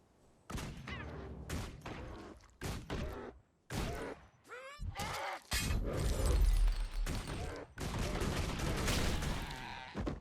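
A Guild Wars 2 thief fires dual pistols in a body shot, giving sharp bursts of gunfire in separate volleys with gaps between them, followed by a denser run of shots and impacts.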